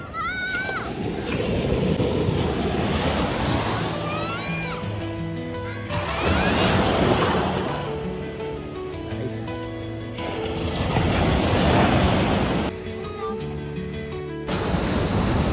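Ocean waves surge and wash up on a beach in Goa, rising in repeated loud swells with splashing, while people talk and shout over the water.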